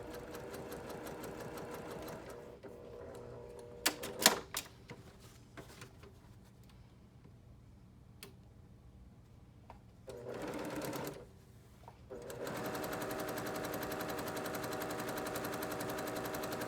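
Sewing machine stitching quilt fabric, a steady fast needle rattle that drops off for a while mid-clip with a few light clicks and thumps, then resumes at full pace.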